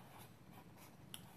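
Marker strokes on a board in a talk about stress, a steady faint scratchy rustle of drawing with a few soft, brief squeaks, close by and with no voices.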